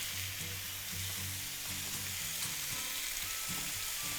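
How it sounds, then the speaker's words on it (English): Steady, crackling sizzle of steak frying in a hot pan on medium-high heat, bright hiss throughout with faint soft knocks underneath, continuous and close. "Hear that sizzle? That's exactly what you want when you're cooking meat."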